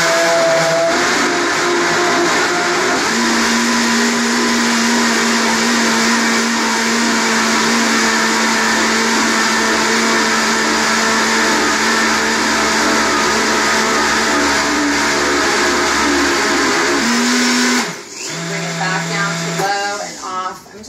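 A countertop blender roars steadily on high while blending a thick durian, coconut, blueberry and cardamom pudding, a loud continuous whine with a steady pitch that cuts off and shifts near the end.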